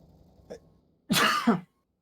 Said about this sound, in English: That was like a sneeze cough.